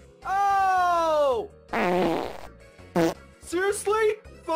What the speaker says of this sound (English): Seriously? Fart jokes?